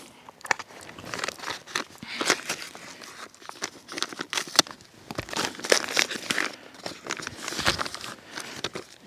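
A plastic package of summer sausage is being torn and opened by hand, giving steady crinkling and crunching of wrapper plastic with irregular tearing bursts throughout, close and fairly loud, without talk.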